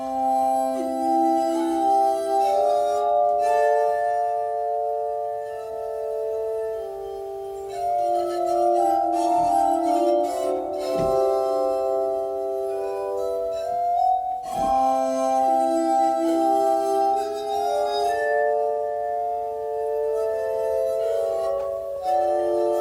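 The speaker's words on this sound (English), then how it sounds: "Here's a video of this dude absolutely shredding this glass harmonica." Glass harmonica played fast and fluently, its rubbed glass bowls ringing in bright sustained overlapping tones, with occasional sharper clinks between phrases, loud and close with no talking.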